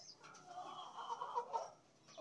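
A Brahma Light Columbia chicken, a breeding hen at an egg-hatching operation, clucks softly in a short, murmuring run, faint and close with no voices.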